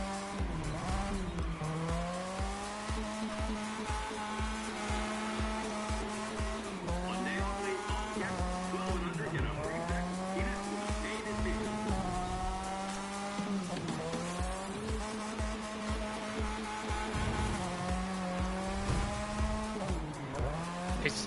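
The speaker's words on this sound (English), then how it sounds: "Time to pull up a nice drift." Race car in The Crew 2 drifting through a 360 turn after a bridge, its engine whining in rising and falling sweeps while tires squeal continuously, loud and close for the whole stretch.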